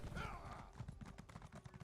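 Rhythmic clip-clop of horse hooves galloping in the video game Elder Scrolls Online, a steady fast beat that stays faint and close, with a brief voice early on.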